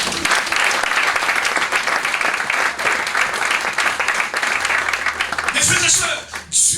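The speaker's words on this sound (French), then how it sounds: "On acclame le Seigneur." A church congregation applauds and cheers for the Lord in steady, loud, sustained clapping that fills the room, with voices mixed in and a brief dip near the end.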